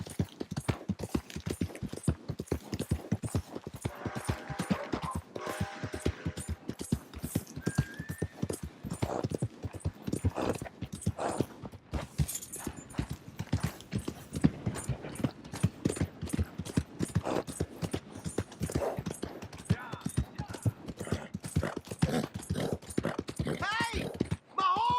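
Rapid rhythmic hoofbeats of a galloping horse in Red Dead Redemption 2, continuous and close, with a faint whinny early on and occasional mechanical clatter.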